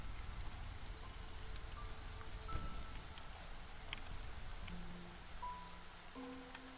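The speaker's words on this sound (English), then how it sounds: "Alright, it's drizzle season." Drizzle season rain in the strategy video game Against the Storm makes a steady, soft patter and hiss that runs throughout at low level, with faint scattered game chimes and tones over it.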